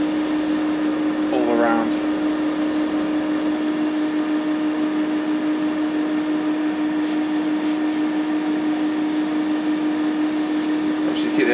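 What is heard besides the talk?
airbrush spraying primer coat on model aircraft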